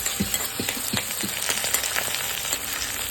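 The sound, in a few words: ground green chili frying in a pan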